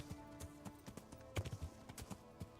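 Horse hooves clip-clopping in the video game Kingdom Come Deliverance, a steady run of close, moderately loud hoofbeats over a quiet game backdrop, with a slightly heavier cluster of strikes near the middle.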